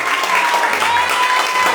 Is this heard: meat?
no